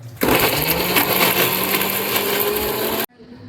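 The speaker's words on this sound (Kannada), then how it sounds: "ಸೊ ಅದಕ್ಕೋಸ್ಕರ ನಾವು ಪ್ರೀತಿ ಮಿಕ್ಸರ್ನ ಯೂಸ್ ಮಾಡ್ತಾ ಇದ್ದೀವಿ." A Preethi mixer grinder runs for about three seconds, a loud, steady high-pitched motor whir that starts and stops abruptly.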